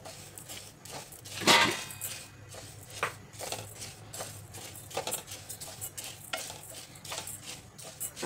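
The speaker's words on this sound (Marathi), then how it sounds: "तर पॅन गरम झालेला आहे छान। आपल्याला गहू टाकायचे अगोदर।" Wheat grains are stirred and dry-roasted in a hot heavy-bottomed pan, making a soft, steady scraping and rustling with faint clinks, quiet and close with no voices.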